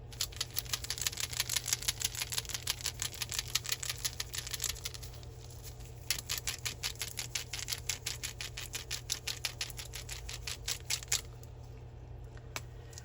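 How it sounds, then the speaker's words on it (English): A homemade permanent oil paint marker is shaken hard, its rattling mixing ball clicking in a fast steady rhythm for several seconds, pausing briefly, then rattling on again close to the microphone. "now you still want to give it a very good shake"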